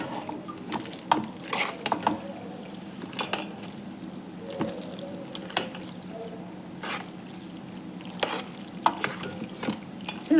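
Macaroni with béchamel sauce and mutton stirred in a pot, soft scraping and clinking of a spoon against metal recurring at close range over a low sizzle, with no talking.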